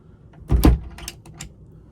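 A sliding pocket door on a 2006 Sea Ray 48 Sundancer yacht slides along its track with a soft thud at the start, followed by a few light clicks and rattles, close by.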